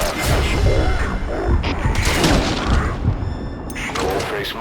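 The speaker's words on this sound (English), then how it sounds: "Get on the mortar." Mortar fire in Metal Gear Solid V rumbles as a dense run of heavy, booming blasts and impacts that continue without a break, with voices faintly under the explosions.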